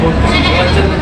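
A goat bleats loudly and steadily at a livestock auction market, the wavering cry heard close up through a crowd hubbub.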